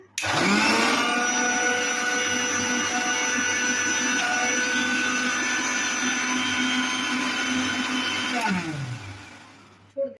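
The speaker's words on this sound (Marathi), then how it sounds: "आता याला आपण वाटून घेऊयात." A kitchen mixer grinder purees fried onion into a paste, its steady loud whirring motor running for about eight seconds before winding down and stopping.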